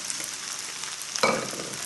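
Fried rice and prawns frying in a hot pan, a steady hiss that jumps into a louder, crackling sizzle as something hits the pan's bottom.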